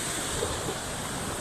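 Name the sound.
ocean waves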